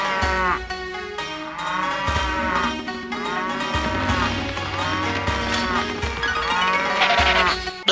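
Cows moo over and over, several long, loud, drawn-out calls following one another closely with no talking.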